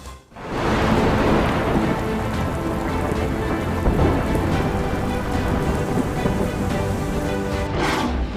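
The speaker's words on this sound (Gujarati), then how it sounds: "સૌરાષ્ટ્રના મોટાભાગના જિલ્લાઓમાં વરસાદ પડ્યો।" Heavy pre-monsoon downpour in Saurashtra, Gujarat: dense, loud, continuous rain drumming on surfaces with deep rolling thunder mixed in, close and steady, no voices.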